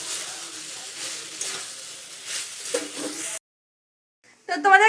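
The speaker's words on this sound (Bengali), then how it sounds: "এবার আমি ভেজে রাখা চিংড়ি মাছ আলু তারপরে কাঁঠাল সব দিয়ে দিলাম দিয়ে এবার এর সঙ্গে এটাকে কষাবো" Fried shrimp, potato and jackfruit being sautéed in spiced oil for a Bengali jackfruit-shrimp curry, a soft sizzle with stirring for a few seconds, then a brief silence and a short louder burst at the end.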